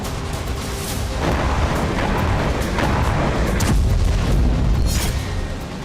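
Deep rumbling booms roll one after another, a dense continuous barrage of blasts with low thunder and crackle, loud and sustained throughout.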